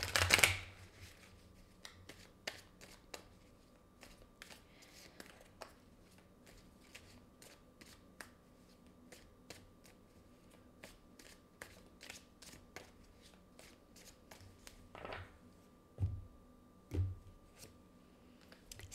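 Tarot cards being shuffled and drawn, soft rapid riffling and sliding with scattered card snaps and taps, quiet and close, no voices.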